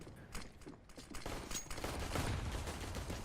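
A decoy grenade in Counter-Strike fires off bursts of fake gunfire, a quick series of sharp cracks and rattles that sound at a distance under general game noise.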